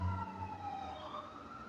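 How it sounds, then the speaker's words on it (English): An emergency vehicle siren wails outdoors, a steady falling tone that sounds moderately distant and continues throughout. "Ignore the sirens."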